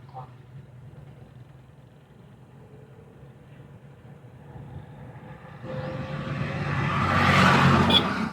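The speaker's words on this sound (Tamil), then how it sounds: "இப்போ நம்ம ஆக்சிலேட்டரை படிப்படியாக மெதுவாக கூட்டலாம்." A car engine idles low, then revs up gradually as the accelerator is slowly pressed, the pitch and loudness rising toward the end, with a driving instructor talking over it.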